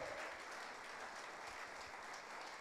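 A church congregation claps for the apostle Paul at a pastor's urging, a quiet, far-off, even patter of many hands that holds steady throughout with no speech over it.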